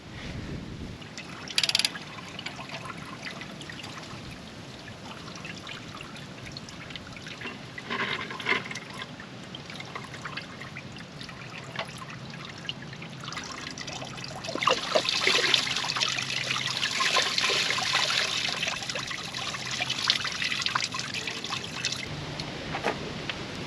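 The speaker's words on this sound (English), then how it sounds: "I don't have enough coolant out of it yet." Coolant drains from a John Deere 3033R tractor engine in a steady close trickle, with faint clinks and a louder splashing stretch midway.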